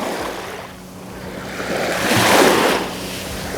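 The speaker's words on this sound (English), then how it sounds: "I'm gonna do very low shot of the waves." Ocean waves wash onto the shore close by, a continuous rushing surf that swells and recedes, with a little wind noise and no voices.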